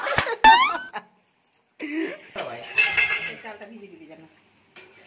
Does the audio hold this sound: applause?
no